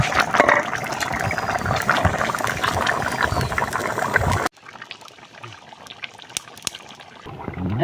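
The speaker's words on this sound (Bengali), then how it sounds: "এখন হচ্ছে এই যে ফাইসা মাছগুলো দিয়ে দেবো" Phasa fish going into a thin, watery mustard-style tomato and potato curry broth, a loud bubbling, gushing liquid wash that suddenly drops to a quieter simmer with soft splashes and clinks.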